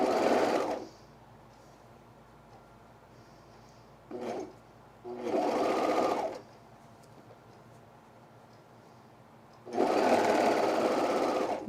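A sewing machine fitted with a cutting blade stitches seams on a fleece quarter-zip pullover, running in three bursts of a few seconds each with a short stutter between, with quiet pauses in between.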